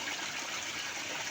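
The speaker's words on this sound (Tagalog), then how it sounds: "Kusog man tubig dani." Strong flowing water rushing steadily outdoors, a loud continuous broadband wash with no breaks.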